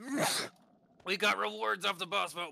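A single sharp sneeze bursts out close by. A short pause follows, then a person starts talking.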